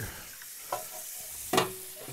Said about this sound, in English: Let's rinse off the grody bits.